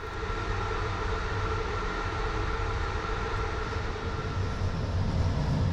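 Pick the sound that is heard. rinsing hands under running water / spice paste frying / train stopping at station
train stopping at station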